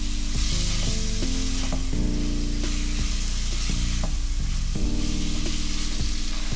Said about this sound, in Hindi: चिकन को यहाँ मैं गल जाने तक फ्राई करूंगा।